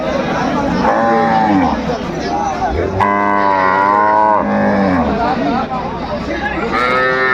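Cows and calves at the Aftabganj cattle market moo loudly and repeatedly, long drawn-out calls overlapping one another against a steady bustle of market noise.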